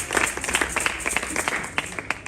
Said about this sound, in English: So let's clap for Papa